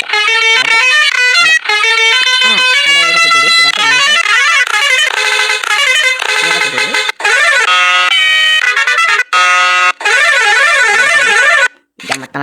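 A bus horn blares repeatedly and loudly in close range, sounding in long musical, warbling bursts separated by brief gaps, with no other sound between them.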